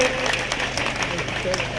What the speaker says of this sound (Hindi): सभी लोग एक बार ताली बजाते